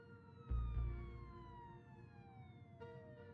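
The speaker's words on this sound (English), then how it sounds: "Jenny could hear police sirens in the distance." A siren wails in the distance in the game Jenny LeClue: Detectivu, its pitch sliding slowly downward, with a low thump near the start and another siren tone rising at the end.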